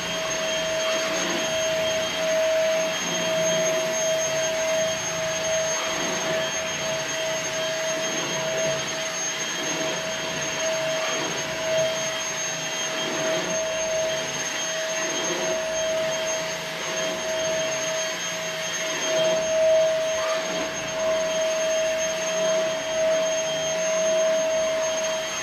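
A budget vacuum cleaner bought from Temu, priced at 150 dollars, runs continuously on a floor covered in German Shepherd hair, giving a steady loud whine with a sharp constant tone and no talk over it.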